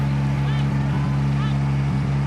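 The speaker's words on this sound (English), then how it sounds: "all we can hear is the hum of the supercar engines down at turn 1" Supercar engines humming down at turn 1 of a rallycross track at the 2019 ARX of Canada, a steady low drone heard at a distance, loud and even, beneath a voice talking.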